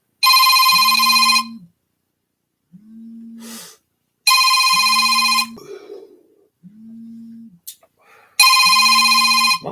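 A phone ringtone in repeated bursts of electronic ringing, loud and close, with short gaps between rings and brief sounds in the pauses.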